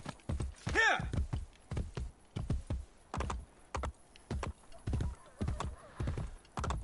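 A horse gallops in Assassin's Creed Brotherhood with a quick run of hoof clip-clops that continues steadily, and a short whinny breaks in near the start.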